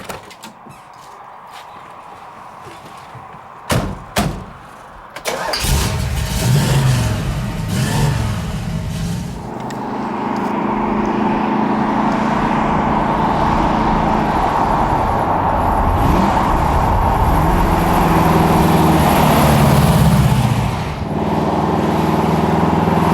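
A 1965 Pontiac GTO with a lumpy, aggressive cam starts up after a few clunks, then roars and revs repeatedly while pulling away and driving. The engine is loud and close throughout, with rising and falling pitch and no voices.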